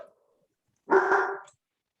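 A dog gives one short, sharp bark at moderate distance, heard alone in a quiet room after a brief faint sound.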